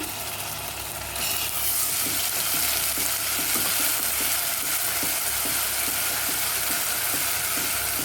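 Onions frying in oil in a pan for mutton pulao, a dense sizzle that swells louder after a second, with a rapid rhythmic scraping of stirring throughout, near and steady with no voices.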